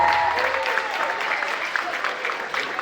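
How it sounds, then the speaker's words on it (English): Wedding guests applauding after a toast, a dense, warm burst of clapping and cheering that fills the room and gradually eases off, with some voices mixed in. "One more round of applause."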